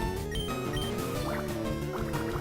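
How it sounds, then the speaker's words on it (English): Water Gun attack in the Pokemon Fire Red video game, heard as a gurgling, splashing burst of liquid sound effects over layered game music, with no talking. "That's the last water gun we can take"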